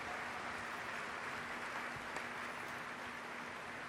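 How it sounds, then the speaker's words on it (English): Audience cheering and applauding during a political speech, a steady dense wash of crowd noise at moderate distance, continuous throughout with no distinct voices standing out. "we're cheering for her"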